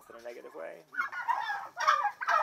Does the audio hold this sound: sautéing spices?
no